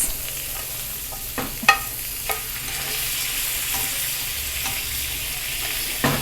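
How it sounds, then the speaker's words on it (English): Butter and garlic sizzle in a pan with meat, a steady crackling fry broken by a few sharp scrapes and clinks of stirring. "I'm gonna put a little bit of butter here and a garlic so it can melt"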